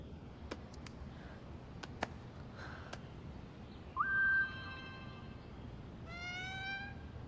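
A pet cat named Pipi mewing indoors, a short rising meow followed by a quieter drawn-out one, faint and close, with a few light clicks before it.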